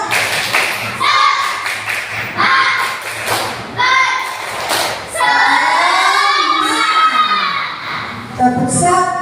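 A fourth-grade class does a rhythmic spirit clap, bursts of sharp clapping in patterned groups mixed with children's voices and a teacher speaking, close and lively.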